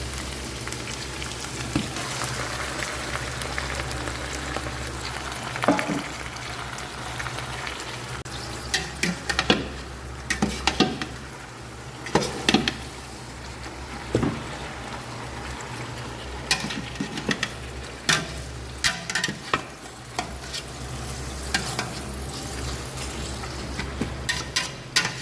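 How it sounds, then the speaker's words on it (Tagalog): Beef sizzling as it is sautéed in a hot pan for Filipino dinakdakan and pinapaitan, a constant crackling fry with intermittent sharp scrapes and clinks of stirring, close and moderately loud, no talk. "pwede na natin ilagay yung ano, yung ating karne ng baka para may gisa siya at mapalambutan"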